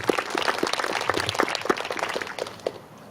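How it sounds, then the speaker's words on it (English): An audience applauds at a public speaking event in Great Falls, Montana, a dense patter of many hands clapping together that fades toward the end. "So please give another round of applause to the scouts that are here."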